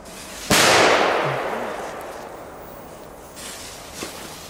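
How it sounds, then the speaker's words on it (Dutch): A single loud firecracker bang goes off outdoors in Belgium, then fades slowly into a long hiss-like decay, followed by faint rustling and a small pop near the end. "Hier worden nog meer knallers gehaald. Gepakt."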